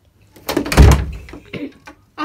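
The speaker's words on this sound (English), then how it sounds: "Oh no, the door opened again. Let me close out." Door being closed and locked: a loud, close thud as it shuts, followed by quieter rattling and clicking of the lock.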